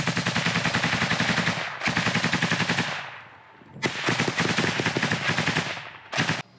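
Small-arms combat near Bakhmut, with long, loud bursts of rapid automatic gunfire, a short pause, then more sustained rattling fire ending in a final brief burst.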